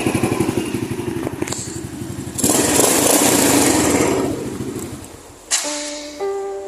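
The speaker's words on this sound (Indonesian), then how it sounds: "Dan ini adalah contoh motor yang masih halus kayak gitu." A Honda Astrea motorcycle engine idles smoothly with a steady, close pulsing beat that swells louder for a few seconds mid-clip, then eases back down.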